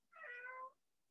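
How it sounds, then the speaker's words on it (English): A single short, clear cat meow, about half a second long, fairly faint and alone in a quiet room. "meow, she says."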